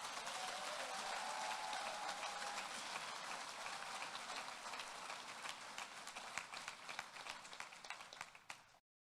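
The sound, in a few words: applause for families and friends at graduation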